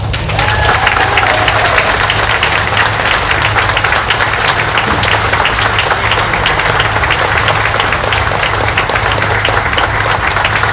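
Audience at the Hmong Wausau Summer Festival 2024 applauds the governor, a dense, loud, continuous wash of clapping from a large crowd, with faint cheering mixed in.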